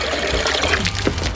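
Water poured into a colander during work on an Isuzu Trooper, a brief steady splashing and trickling rush, fairly loud and close.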